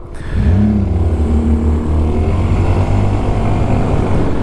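A 2023 Honda SH350 scooter engine opens up at full throttle, its loud, close drone rising steadily in pitch as the scooter accelerates, with wind rush around it and no voices.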